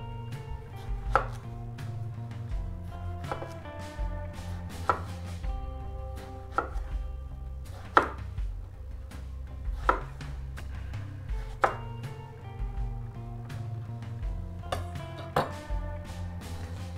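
A knife slices through aubergine on a cutting board in a steady series of close, crisp knocks roughly every second or two, with a low hum underneath and nobody speaking.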